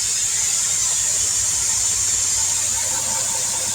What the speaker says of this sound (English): then I'll drop the bags just so that the tractor doesn't pop up and smack the frame